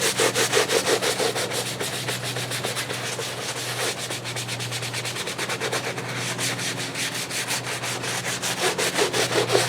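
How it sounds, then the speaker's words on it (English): A scrub brush works Meguiar's all-purpose cleaner into GMC floor mats. Fast, rhythmic strokes rasp loudly and close up, with no break. "I'll go in and I'll scrub again"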